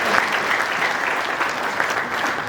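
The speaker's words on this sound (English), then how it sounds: "Can you clap for me?" An audience claps steadily and densely at a farewell gathering for a coffee table book launch, the applause filling the room evenly without a break and no talking over it.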